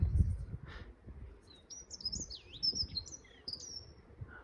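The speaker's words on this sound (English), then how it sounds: "It's a very noisy dunnock just there." A dunnock sings in Alexandra Gardens at Ventnor on the Isle of Wight: bright, high warbling phrases repeat over a few seconds, moderately close, above low rumbling background noise.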